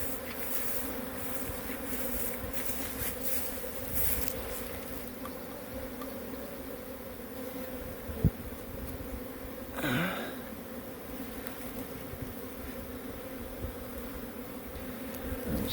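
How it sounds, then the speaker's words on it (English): Bees fly in and out of a hive box, their buzzing forming a steady, continuous drone with no voices over it. "there's still bees coming in and out of this box"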